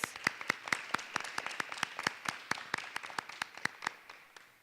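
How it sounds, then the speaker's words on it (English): A small audience at a high school debate final claps for the judges, producing sparse, distinct hand claps in a fairly quick, uneven rhythm, quiet and close with no dense roar. "let's give a round of applause for our judges."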